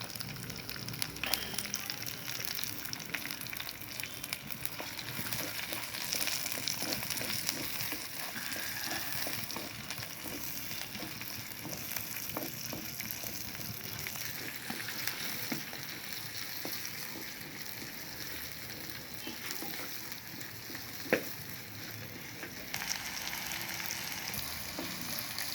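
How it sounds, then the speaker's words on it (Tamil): Onions, fenugreek seeds and green chillies sauté in hot oil in a pot for a crab curry, giving a steady, close sizzle and crackle that runs unbroken throughout. "வெந்தயம், பச்சை மிளகாய், கூடவே வெங்காயம் சேர்த்து நல்லா வதக்கிக்கலாம்."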